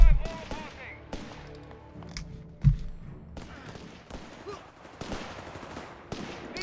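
Grenades exploding in a Company of Heroes 3 battle between Afrika Korps and US forces: several sharp blasts and thumps amid scattered gunfire, with a commentator talking throughout.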